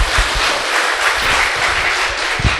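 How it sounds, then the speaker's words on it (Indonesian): Audience at an Indonesian talk show event in Bekasi applauding in a dense, steady burst of clapping that fills the room at full volume. "Tepuk tangan dong."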